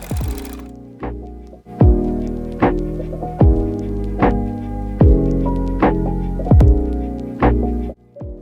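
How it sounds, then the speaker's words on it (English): A serger overlocker sewing machine running seams on cosplay fabric in repeated bursts, each a loud rhythmic motor whir starting with a thump and fading, about eight runs with short pauses, close up and without speech. "I was serging each seam as I went"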